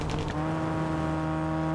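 An Alpine A110 rally car engine in the video game WRC Generations, a loud, sustained buzzing drone with strong steady tones that hold pitch for the whole short stretch.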